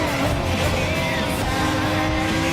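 A race car in the Gran Turismo Sport racing game drives at speed, its engine a steady, loud, continuous drone with a hint of tire noise, heard alone without talk.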